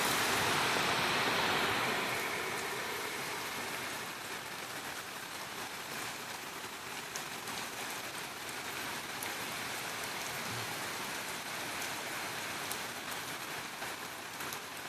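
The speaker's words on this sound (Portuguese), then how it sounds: "Chuva chegando lá no Rio Grande do Sul, né? Essa chuva aí registrada pelo Rafael." Rain falls steadily in Joia, Rio Grande do Sul, a dense continuous wash of drops on surfaces, slightly louder at the start and then constant, with no voices.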